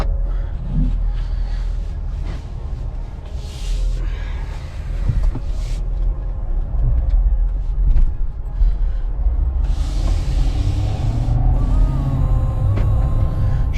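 A lifted 2022 Ford F350 with a BDS suspension lift rumbles steadily at close range, a heavy truck engine running low and loud with faint hiss and clatter as it starts off and drives away.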